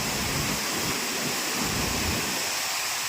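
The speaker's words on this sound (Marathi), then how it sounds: "डोंगरी असा धबधबा आहे बघा फुल धबधबा बघा फुल" A loud, constant rushing roar of a large hillside waterfall near Mandhargad, close and unbroken from start to finish.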